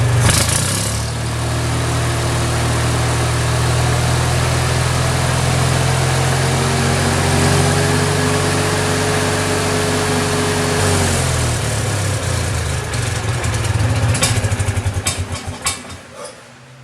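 A Ford 2000 tractor engine runs steadily with a deep, throbbing idle, loud and close, then slows and sputters toward the end.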